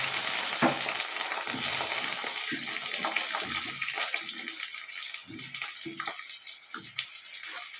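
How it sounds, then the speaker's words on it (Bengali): Eggplant pieces fry in a little oil in a wok, giving a close, steady sizzle and hiss broken by small spattering crackles, with no talking. "এবার আমি বেগুনগুলো একটু হালকা করে ভেজে নেব।"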